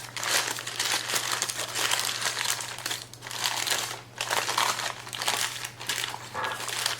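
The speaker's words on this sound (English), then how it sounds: "And then I'll put it in some plastic wrap to put it in the refrigerator overnight" Plastic wrap crinkles around rich pastry dough for chocolate tarts, a loud, continuous crackling that swells and dips over several seconds with a steady low hum beneath it.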